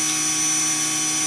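CNC machine routing a quarter-inch-deep, six-by-six-inch pocket into a wooden trivet holder, a loud steady high-pitched whine with no break.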